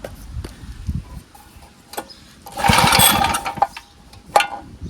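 A Craftsman 13.5HP rear engine riding mower that needs a carburetor cleaning is being started: one brief mechanical cranking burst sits amid quiet clicks and handling noises, with no steady running afterward.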